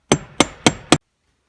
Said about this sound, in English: hit on the bottom of it with a hammer, and that should loosen